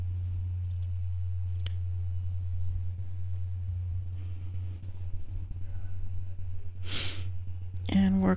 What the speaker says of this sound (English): And we're going to cut that out.